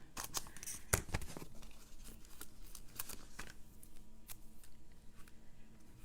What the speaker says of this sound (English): I'm just going to cut a strip off the edge.